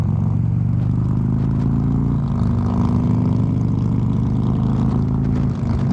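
A 2008 Harley-Davidson Street Glide rides along on a sunny day, its engine a steady, loud low drone that holds constant throughout, with no talking.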